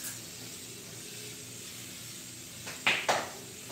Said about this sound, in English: The last step, of course, is setting spray. I'm using Evian natural mineral water.